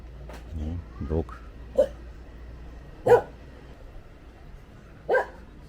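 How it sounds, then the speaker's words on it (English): A dog barks a few times at a distance along a street of apartment blocks in Angeles City, Philippines, with single sharp yaps spaced seconds apart over low background noise and some nearby talk. "Dog."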